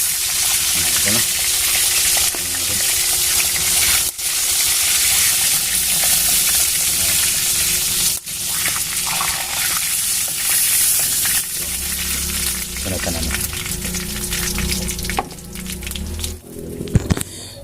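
Half-cooked pieces of kasili (eel) frying in a pan give off a steady, loud sizzle that runs almost without a break, with brief stirring clatter and a few sharp pops near the end.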